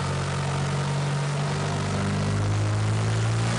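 Turbocharged car engine pulling up through the gears under boost, a continuous loud low drone whose pitch climbs and shifts steadily, heard alone without talk.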